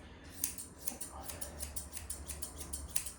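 Grooming scissors snipping the white hair of a doodle dog, a quick rhythmic series of crisp close snips repeating steadily about every third of a second over a low background hum.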